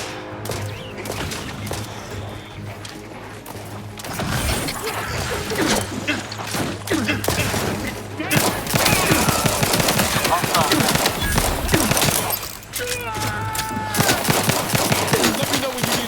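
Gunfire in the shooter game The Outer Worlds 2, with sustained rapid bursts of automatic fire and single shots cracking close and loud over roughly sixteen seconds, and brief gaps in between.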